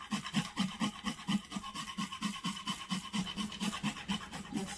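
Nutmeg is rasped steadily on a microplane grater for baking a sweet potato pound cake, a close, rhythmic scraping of quick back-and-forth strokes that runs without a break and with no talking.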